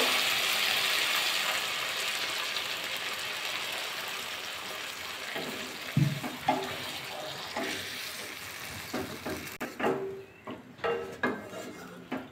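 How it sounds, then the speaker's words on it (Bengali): Water is poured into a pan of spiced cauliflower curry (phulkopir jhal) as it cooks, a steady close hiss fading out, followed by several sharp clinks and knocks of utensils against the pan. "ফুলকপি দিয়ে মশলা দিয়ে কষিয়ে নিয়েছি, এবার জল দিয়ে দেবো"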